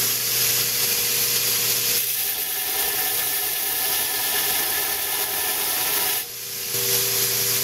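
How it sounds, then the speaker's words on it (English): A belt grinder runs steadily against a steel cutting blade outdoors in snow, producing a continuous loud abrasive hiss and drone with a steady motor hum, briefly dipping near the end before resuming. "For those of you who want a belt grinding lesson, you can kind of see what I'm doing."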